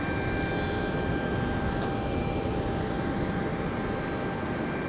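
Embraer E195-E2 jet at London City airport, a steady broadband engine roar with a faint high whine, constant and fairly loud throughout with no talk.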